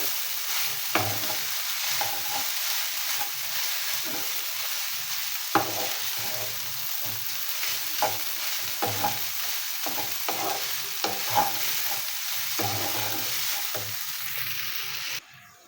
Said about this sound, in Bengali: পাস্তাগুলো দেওয়ার পর এভাবে নেড়ে চেড়ে মিশিয়ে নিতে হবে